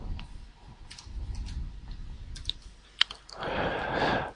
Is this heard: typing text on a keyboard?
yes